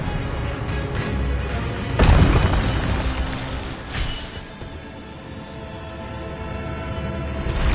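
A loud spell explosion in a Harry Potter video game bursts out of steady background ambience, then a second, softer blast follows a couple of seconds later before the noise settles back to a low rumble.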